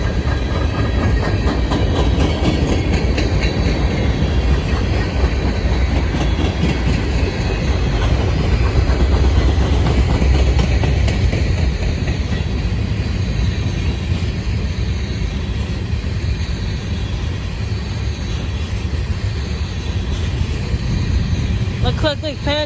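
Freight train with a DPU locomotive rolls past in a long, continuous loud rumble with rhythmic clickety-clack from the wheels, steady and close throughout.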